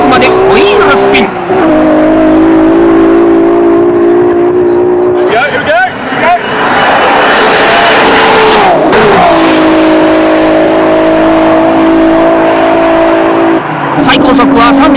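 A Toyota Supra making nearly 900 horsepower launches hard on a UK street toward top speed, spinning its wheels up to fifth gear; a loud, sustained engine roar rises through the revs with brief dips at each gear change.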